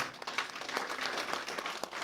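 A short burst of applause from a church congregation, a dense patter of clapping at moderate distance with no talking.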